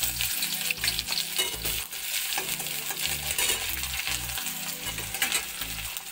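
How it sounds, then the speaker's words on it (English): Onion fries in mustard oil in a pan, producing a loud, steady, dense sizzle that runs throughout with light stirring underneath. "I will fry the onion"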